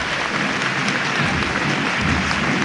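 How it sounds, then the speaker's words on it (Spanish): A crowd in Madrid applauding a religious procession as it passes, with dense, sustained clapping that stays loud and even throughout. "¿escuchas los aplausos?"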